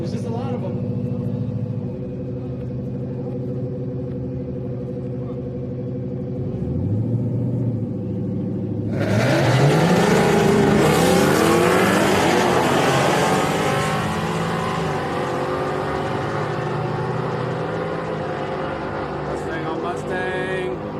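Ford Mustang 5.0 drag cars at Houston Raceway Park on a Friday street night: an engine idles and revs, then a loud launch roars down the strip and fades away, with crowd noise around it.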